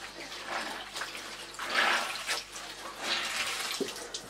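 Running water from a tap filling a basin to change the wash water for a vintage Hoover cloth bag, a steady close splashing and trickling that rises and falls, with no talk.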